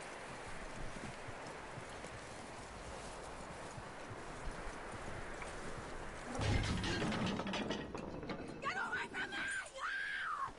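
Horse hooves clip-clop in Red Dead Redemption 2, a steady rhythmic trot under game ambience, growing busier toward the end as voices speak over it.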